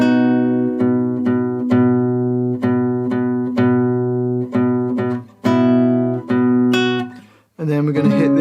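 Guitar plays a slow line from the Assassin's Creed Rogue main theme, bars 37–38: repeated plucked notes over a steady low open string, up close and clear, ending in a brief strummed chord.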